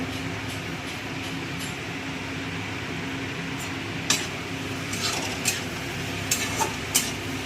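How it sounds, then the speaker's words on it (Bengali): Ash gourd pieces frying in a pan give a steady, soft hiss throughout, with a few sharp clinks of a utensil against the pan near the end. "চাল কুমড়োটা একটু ভাজা করে নিয়ে তবে মশলাটা দেবো"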